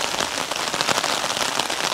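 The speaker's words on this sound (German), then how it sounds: "Warten einmal, bis der vorbei ist, ein bisschen der Regen, eventuell." Steady rain falls on surfaces outdoors, a dense, even patter of drops with no voices.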